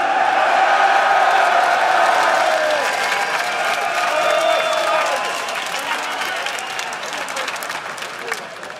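A crowd at a League of Legends EU LCS Summer Split 2014 esports arena applauds and cheers, a loud wash of clapping that gradually fades, with a voice talking over it.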